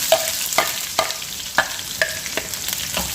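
Chopped shallots and chilies fry in hot oil with mustard seeds for a fish curry, a loud steady sizzle broken by regular scrapes and stirs of a spoon in the pan, close up.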